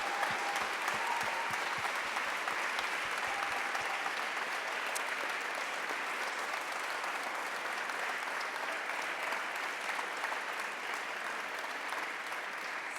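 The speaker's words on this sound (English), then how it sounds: "If you just want to give them one more round of applause," A large audience at a city-planning speaker series applauds the speakers in a long, even wash of clapping that holds steady and moderately loud from start to finish.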